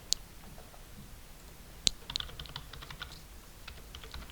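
Quick clicks of a computer keyboard as a web address is typed in, sparse sharp keystrokes with one louder tap, close and alone over a quiet room hiss.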